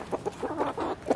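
Backyard chickens cluck softly in a garden coop, several short murmuring clucks scattered across a brief moment, fairly close but quiet, with no talking.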